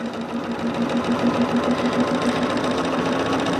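Sewing machine running steadily at close range, a continuous mechanical whir with a fast, even stitching rhythm throughout, no talk over it.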